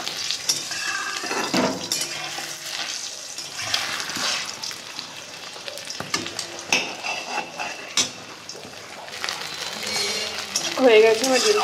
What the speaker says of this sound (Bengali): তো ফার্স্ট দেবো হচ্ছে সাদা তেল, তো গরম হলে ডিমটা ভেজে নেবো।